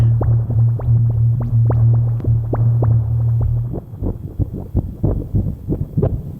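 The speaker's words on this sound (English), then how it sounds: "That is just some crunchy bubbles" Crunchy, bubbling sounds from a cassette tape loop: a steady low throbbing hum with rhythmic clicks, which then breaks into dense, irregular crackling pops, loud and close, with no talk.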